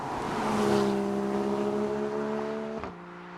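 A Porsche Cayman GTS driven hard through twisty road corners, its engine note holding a steady, loud tone before dropping sharply as the driver lifts off near the end.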